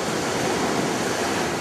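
Ocean waves wash steadily at Pounders Beach in Hawaii on a mild day, a continuous close rushing roar of surf with some wind, no voices.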